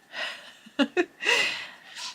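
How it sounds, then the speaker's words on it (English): Someone with a runny nose sniffs several times in short, close bursts, with breathy snorts and a couple of sharp quick inhales, quiet and up close. "I notice how much I sniff on video."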